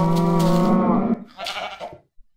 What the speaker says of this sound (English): There's cows and chickens and sheeps and zombies everywhere.